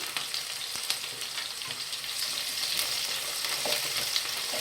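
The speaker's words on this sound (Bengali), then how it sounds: "তেল গরম হয়ে গেছে, এবার পেঁয়াজের টুকরো এগুলো আমি দিয়ে দিচ্ছি" Onion pieces frying in hot oil in a pan while cooking chicken pasta, a steady crackling sizzle that grows slightly louder and denser, with a few sharp pops, heard close and without talk.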